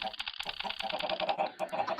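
Chickens clucking in Minecraft with the Thaumcraft mod: a quick series of short, clipped game clucks in an uneven rhythm, fairly close and clear, with no talking over them.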